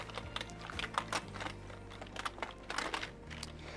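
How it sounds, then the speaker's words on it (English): A computer keyboard being wiped with a moist rag, its keys clicking and rattling softly in irregular little clusters, quiet and close. "For the keyboard, you're going to really get this rag real moist."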